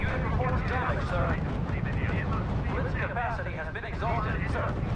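Cannon fire from a Whirlwind tank in the strategy game R.U.S.E., heavy booming shots and rumbling battle noise dense and continuous, with a voice talking over it.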